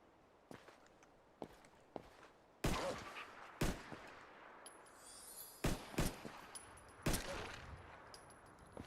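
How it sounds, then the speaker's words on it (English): Gunshots in Fallout 4 ring out as a string of sharp, separate cracks spread across several seconds, some louder and closer than others, mixed with footstep-like thuds and no talk. "We got gunfire."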